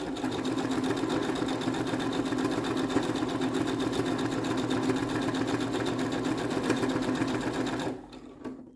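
Sewing machine stitching fabric at a steady fast rhythm, close and continuous for about eight seconds before stopping abruptly.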